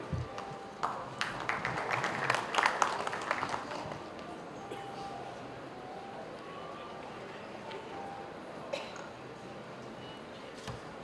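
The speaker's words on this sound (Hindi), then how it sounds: "जोरदार ताली आशीष जी के लिए।" Loud applause bursts for Ashish ji at the Sarvottam Nagrik Samman award ceremony, a dense crackling surge in the first few seconds that fades into hall murmur, with a few later scattered claps.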